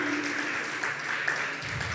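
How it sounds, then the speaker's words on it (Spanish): Church congregation applauding at the close of an online service, a steady, moderately loud wash of clapping filling the short stretch with no break. "Dele un fuerte aplauso a Dios"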